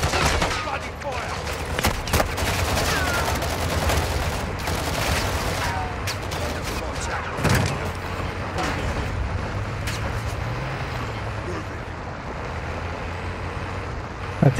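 Sustained gunfire from Call of Duty DMZ, with dense continuous automatic bursts and a few heavier thumps, loud and close across the whole stretch over engine-like rumble.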